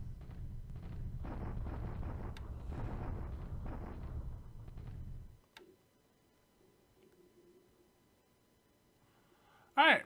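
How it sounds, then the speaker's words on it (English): Artillery bombardment in a WWII Pacific strategy game set in 1942, a dense rumbling barrage of booms for about five seconds, then near silence before one final sharp burst. "We're bombarding."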